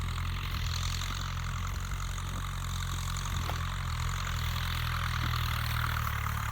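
A Kubota M6240SUH tractor, a farm machine used for rotary tilling of rice paddies, idles with a steady low engine rumble that holds unchanged throughout, with no talk.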